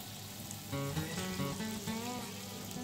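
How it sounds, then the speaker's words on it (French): Steady sizzling and crackling of bones browning in hot olive oil in a saucepan, close up, with a few clinking pan sounds and no talking. "faites revenir les os dans une casserole. Avec de l'huile d'olive"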